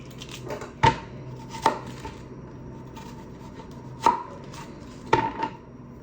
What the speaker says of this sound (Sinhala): අපි ලුණු කපන්න යන්නේ.